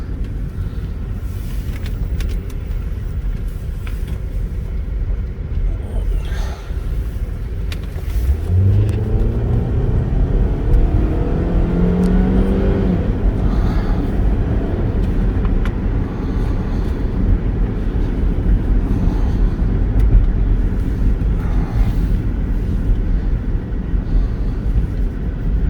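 A 2009 Saturn Vue with a 2.4-liter four-cylinder engine accelerates hard from inside the cabin, its engine note rising and climbing through gears over a constant road and wind roar.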